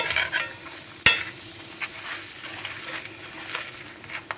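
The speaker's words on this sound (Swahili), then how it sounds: "Na tunaendeleza na step ya kukaanga" Chapati frying in a pan, a steady soft sizzle with light scraping and one sharp knock near the start, followed by scattered small clicks of the flatbread being turned and pressed.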